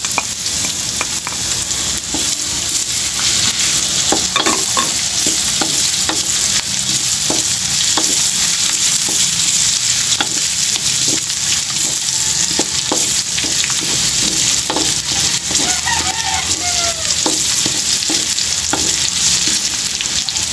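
Ginger frying with pork in a pan for shrimp paste gives a loud, dense sizzle with frequent scraping stir strokes throughout, close up and free of talk.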